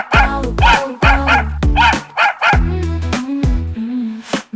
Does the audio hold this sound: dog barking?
yes